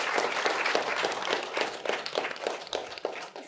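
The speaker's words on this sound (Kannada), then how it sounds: "ಸೊ ನಮ್ಮ ಸೊಸೈಟಿಗೆ ಒಂದು ದೊಡ್ಡ ಚಪ್ಪಾಳೆ." A crowd at a meditation anniversary program gives sustained applause, with the clapping beating in a loose, fairly even rhythm and staying close and steady throughout.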